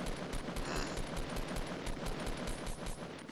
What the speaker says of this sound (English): This gun sucks.